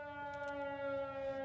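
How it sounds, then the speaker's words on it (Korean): A memorial siren sounds at a Memorial Day ceremony at a military and police cemetery, one steady, sustained wail heard at a distance with no voices. "추모 사이렌이 울려 퍼지자"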